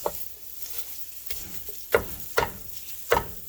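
Sausage browning in bacon grease for sausage gravy, a constant close frying hiss broken by several sharp spatula scrapes and taps against the pan.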